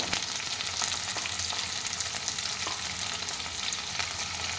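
Cumin seeds and potatoes frying in oil in a pan, a constant close hiss and crackle with a few faint utensil taps, steady throughout with no talking.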